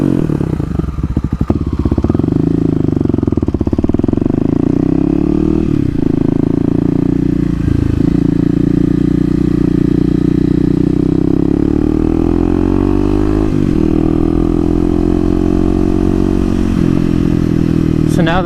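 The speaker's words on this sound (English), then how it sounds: "I have an FMF Q4, so might as well give it a couple revs real quick" A 2018 Kawasaki KLX250 motorcycle fitted with an FMF Q4 exhaust idles loudly up close and is revved several times, each blip rising and falling in pitch, with a voice briefly heard at the start.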